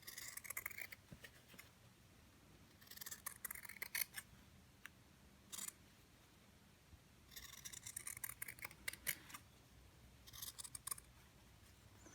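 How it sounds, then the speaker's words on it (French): Scissors cut through fabric while a cloth face mask is being made, trimming the excess edges: soft, close, irregular bursts of snipping and rubbing separated by quiet pauses, with no voices. "On découpe bien les bords qui dépassent."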